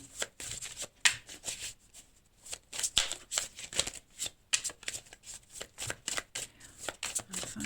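A deck of cards is shuffled and cut in a fortune-telling reading, making a long run of close, crisp riffles, slaps and flicks in uneven bursts. The handling sounds are fairly quiet and heard alone, without speech.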